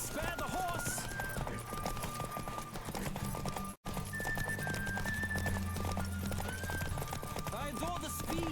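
Rapid hoofbeats of a galloping horse in The Witcher 3 pound steadily beneath rushing noise and a bed of music, with a brief cut midway.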